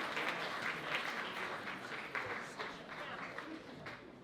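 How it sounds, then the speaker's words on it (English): Applause from the audience at a 20th anniversary benefit evening, steady dense clapping across the whole span with some voices mixed in. "Round of applause again."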